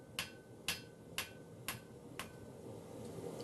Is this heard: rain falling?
no